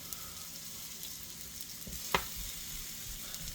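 Potatoes frying in oil on a griddle: a soft, steady sizzle with a faint crackle and one brief sharp tap midway, quiet and close with no voices.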